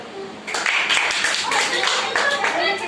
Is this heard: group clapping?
yes